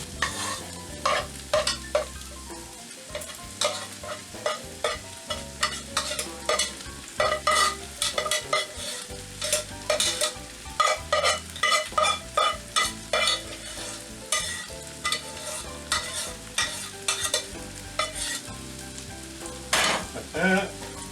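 Pork fried rice is tossed and stirred in a hot pan, with rapid, repeated scraping and clanking strokes of the spatula over a constant sizzle, close and loud with no voices.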